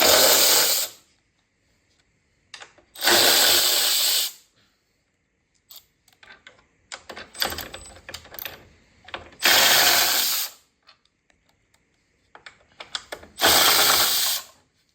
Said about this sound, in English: we're going to take our 13mm socket, swap the 10 out, and take our coupler nuts off.